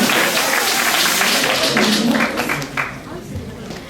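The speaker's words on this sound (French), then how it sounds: "Acclamons très fort pour le Seigneur." Church congregation at a Christmas service applauding in a dense burst of clapping mixed with voices, loud at first and then gradually fading away.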